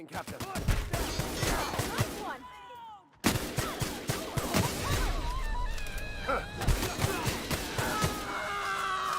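Rapid pistol shots crack in The Outer Worlds, sharp repeated reports coming in uneven bursts with a brief lull partway through, layered over electrical zaps and combat noise.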